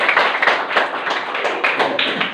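Hands clap in a steady run of about a dozen quick, even claps, close and fairly loud, with no talk over them.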